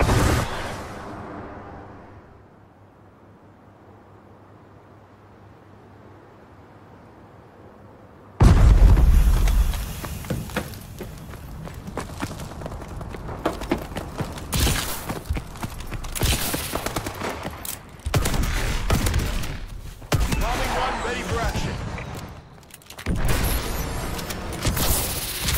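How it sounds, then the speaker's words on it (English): Missile strikes and a bombing run pound the battlefield in Call of Duty: Advanced Warfare. After a quiet opening, a sudden heavy blast is followed by rapid, rolling explosions and bursts of gunfire that continue loud and dense to the end. "Friendly missile strikes inbound."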